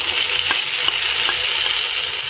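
Sliced onions sizzling in hot oil in a pan, with ginger-garlic paste being added, a dense continuous hiss with a few soft spoon taps, close and loud.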